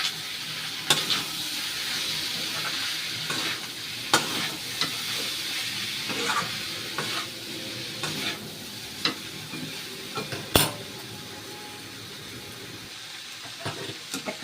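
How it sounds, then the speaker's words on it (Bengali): Masala chicken rice being stirred in a frying pan, with a steady sizzle throughout and scattered scraping clicks from the spoon, fairly faint and close, with no talking. "একটু নাড়াবো।"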